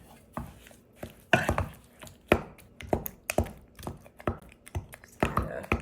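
Wooden spoon smashing and pressing softened butter in a bowl for pecan pie filling, heard as a close, uneven series of sharp knocks and taps with short pauses between strokes.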